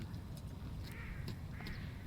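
A few short nasal duck quacks and squawks in a video game over a steady low rumble of background noise, fairly faint and scattered.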